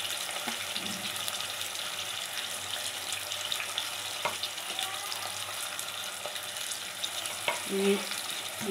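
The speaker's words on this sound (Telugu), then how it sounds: "ఇప్పుడు మనం కడిగి పక్కన పెట్టుకున్న కాకరకాయ ముక్కలు వేసుకొని మనం ఫ్రై చేసుకోవాలి." Bitter gourd pieces sizzling in a pan, a soft steady frying hiss with occasional stirring clicks and scrapes, faint and close, with no voices.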